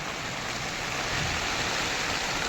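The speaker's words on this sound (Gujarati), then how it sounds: "ફૂલ વરસાદ ચાલુ છે ભાઈ અને વીજળી કટકાના અવાજ થઈ રહ્યા છે" Heavy rain pours in a dense, unbroken roar, loud and close, with no voices over it, during a thunderstorm.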